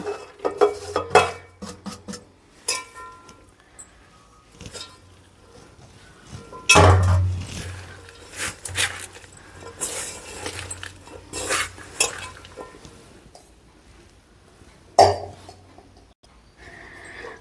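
Okra pakoda batter being mixed by hand in a bowl, with scraping, stirring and clinks of dishes, and a louder clatter partway through.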